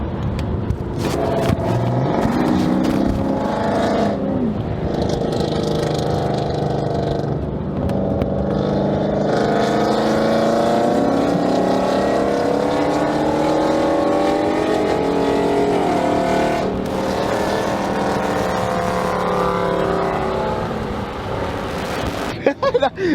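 Catless Hemi V8 exhaust roaring extremely loud and close for the whole stretch, with rising and falling revs, heavy drone and a few short breaks in throttle, while voices speak over it.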